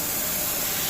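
Gas hissing steadily through the line from a cylinder into a CNC laser cutting machine, a broad, even rush of noise held at constant level for the full second with no talk over it.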